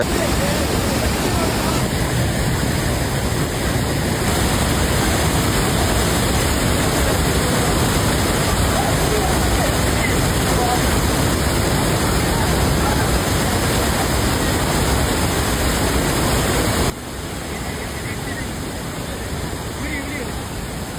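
The waterfall at Courtallam in flood thunders with heavy water flow as a loud, continuous roar. It holds steady throughout and drops slightly near the end.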